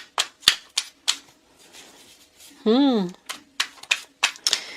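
Quick papery riffles and taps of tarot cards being shuffled in bursts, with a short warbling electronic tone in the middle.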